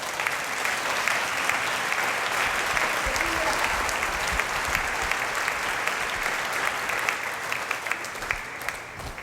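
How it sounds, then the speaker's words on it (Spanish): A church congregation in Cali breaks into loud, sustained applause praising the Lord, dense clapping from a large crowd that holds steady throughout with faint voices mixed in. "Dele un aplauso fuerte al Señor."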